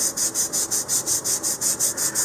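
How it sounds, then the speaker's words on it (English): Steady rhythmic rasp of a sanding block on balsa wood model rocket fins, about a dozen even back-and-forth strokes, close and clear with no talking. "I'm just going to hold my sanding block at an angle here."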